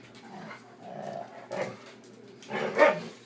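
Dogs in a home kitchen give a few short, muffled barks and low growly yips, fairly faint and spaced out, ending in a slightly louder bark.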